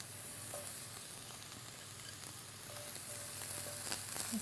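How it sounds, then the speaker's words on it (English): Mushrooms sauteing in smoking hot oil in a pan, a steady close sizzle and crackle throughout with a few faint utensil clicks, no talk. "Do you hear that sizzle?"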